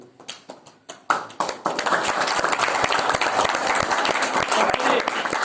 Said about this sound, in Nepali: फेरि पनि ताली